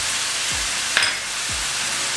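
Chicken and peppers stir-fry in a pan with soy sauce, sugar and rice wine vinegar, giving a steady close sizzle, a couple of soft low thuds and one sharp metallic clink.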